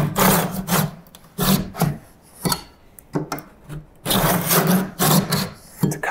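A hand tool saws back and forth along the paint line of a stuck window sash, a series of rough rasping strokes in an uneven rhythm, close and fairly loud with no talking.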